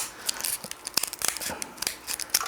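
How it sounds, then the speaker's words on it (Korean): Sharp snipping and crinkling as scissors cut open plastic packaging holding an insect for specimen making, a series of irregular cuts and rustles at close range, with no voices. "이 곤충 포장을 뜯어 줄 거예요. 그래서 가위로 조심스럽게"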